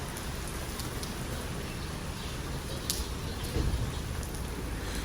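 Heavy rain pours down steadily in Lahore around Liberty Market, a dense, constant hiss of drops on surfaces with a few louder splashes, close and enveloping.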